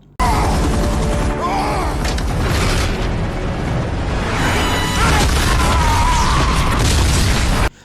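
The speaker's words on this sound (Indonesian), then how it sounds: "Setelah ledakan itu" A huge, sustained explosion from an action film roars loud and dense for several seconds, a continuous blast of rumbling, crashing debris with no break.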